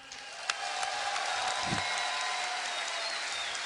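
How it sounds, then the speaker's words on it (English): A crowd applauds at a StarCraft 2 show match, sustained clapping that carries from start to finish with a few louder claps near the beginning. "I'll clap as well"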